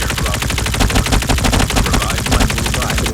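Sustained automatic fire from a PKM machine gun in Call of Duty Mobile's battle royale mode, a dense, rapid rattle of shots that stays loud and continuous with no talking.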